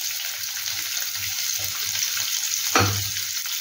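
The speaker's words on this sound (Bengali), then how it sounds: "কুচো করা পেঁয়াজগুলো, ওগুলোকে ভাজতে দেব। অর্থাৎ আমি বেরেস্তা বানাবো এটা ভেজে।" Chopped onions fry in ghee for beresta, a steady broadband sizzle with soft low bumps of stirring and a brief louder clatter near the end; no one speaks.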